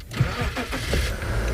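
A safari vehicle on a cut line in a South African game reserve starts up and pulls away, its engine rumbling steadily and close through the whole stretch with no talk over it.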